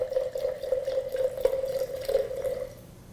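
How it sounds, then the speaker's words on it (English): Wine pours from a bottle into a glass, a steady liquid trickle with a gurgling, dripping tone that runs continuously for a few seconds and then tapers off. "if you're pouring a glass for someone"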